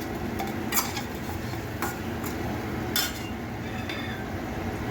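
A spoon stirs a cooked-down tomato mixture in a pan for a cauliflower curry, giving a few scraping clinks against the metal, spaced irregularly and close, over a low background.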